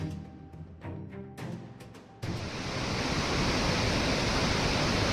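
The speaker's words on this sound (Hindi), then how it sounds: "जैसे जैसे आगे बढ़ते हैं पानी का साउंड और भी तेज होते हैं" Steady roar of rushing water from Jonha Falls in Jharkhand during the monsoon, swelling suddenly partway through and staying loud and constant.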